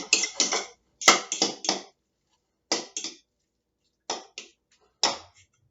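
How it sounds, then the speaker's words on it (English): Lobster meat being mixed with ingredients in a bowl: short bursts of wet clinking and scraping strokes in quick clusters separated by silent pauses, close and fairly clear. "once all the ingredients are in there, and we just mix it up"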